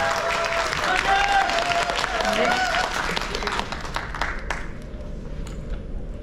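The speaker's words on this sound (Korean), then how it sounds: "박수로 맞이해주시기 바랍니다" An audience claps to welcome a speaker at a Sebasi talk event in Suncheon, a dense round of applause that fades toward the end, with a few ringing tones over it.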